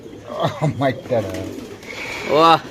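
Nepali Sobji pigeons in a market cage give several soft, throaty coos up close, mixed with people talking nearby.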